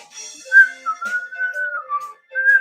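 A person whistles a clear, melodic tune for a theme song, sustained notes with brief pauses, close and fairly loud with little else behind.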